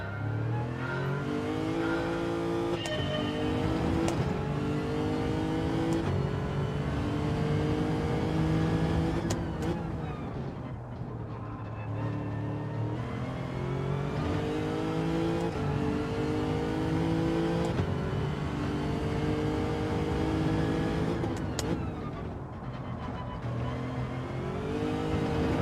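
Race car engine in Gran Turismo 7 revving loudly and continuously, rising and falling through gear changes with a steady high-pitched whine throughout, no talk over it.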